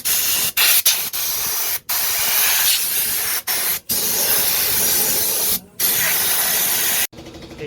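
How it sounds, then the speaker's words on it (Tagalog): Compressed air blasting a part from a Mio Sporty scooter clean, loud hissing bursts in a string of short and longer sprays broken by brief pauses, ending in a quieter tail. "Hanginan na lang natin."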